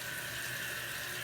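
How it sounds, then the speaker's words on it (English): Steady running water poured beside a shaving setup, a soft continuous splash and hiss like a tap filling a sink, close and uninterrupted, with no voices. "I'm going to put some water down here"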